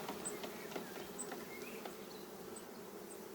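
A dense, continuous buzz of many honeybees at a hive hums at moderate volume, with a few individual bees droning past close by.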